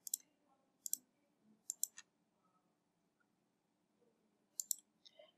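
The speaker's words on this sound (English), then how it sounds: "Select the stops that will be used in route by clicking here." Mouse clicks while setting up NimBus route software: sharp, close single and double clicks in a quiet room, spaced irregularly over several seconds.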